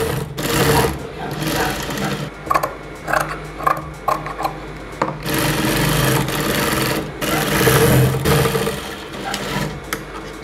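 Sewing machine stitching along the armhole of a sleeveless cowl neck top, a steady close whirring run with a few brief pauses and restarts.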